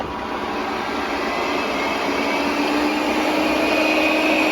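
A Xiaomi S20 robot vacuum running on turbo mode produces a loud, steady high-pitched whine and rushing airflow roar, constant and close, with no voices over it.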